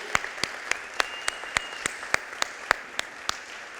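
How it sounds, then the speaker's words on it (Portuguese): A church congregation at a Sunday service claps in unison for Jesus, crisp, evenly spaced claps in a steady rhythm, about three per second, with no voices over them. "palmas para Jesus"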